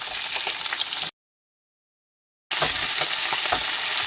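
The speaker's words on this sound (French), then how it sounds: "une bonne coup de friture." Shrimp with heads on fry hard in a hot pan, a loud, dense hiss of sizzling oil that cuts out briefly and then returns at full strength, close up and without talk.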